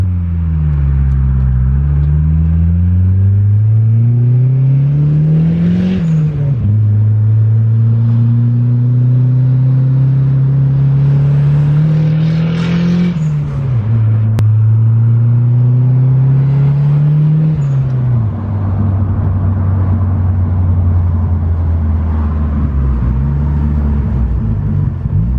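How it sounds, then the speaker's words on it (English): A turbocharged Mitsubishi Eclipse 2G with a 420a engine drives with a loud, continuous engine drone, rising through several revving pulls and dropping on gear changes, heard from inside the car without talking. "Officially taking the Eclipse for a ride."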